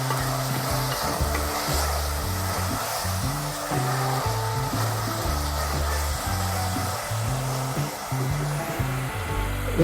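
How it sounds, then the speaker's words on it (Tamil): Onions sautéing in a pan for egg biryani hiss and crackle continuously, a dense frying noise sitting under steady background music, with no voices. "வெங்காயம் நல்லா வதங்கி வந்துடுச்சு."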